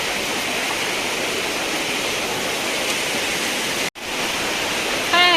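Floodwater after heavy rain rushes in a loud, unbroken roar close by, with a sudden brief dropout near the end and a faint voice at the very close.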